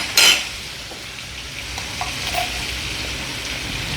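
Makhana stirred with chilli powder and chaat masala in sizzling butter in a pan, opening with a sharp scrape followed by a steady crackling sizzle and a few soft stirring knocks.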